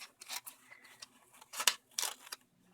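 Small scissors snip through a paper colouring page in short crisp cuts, a handful of close, quick rasping snips with brief pauses between them.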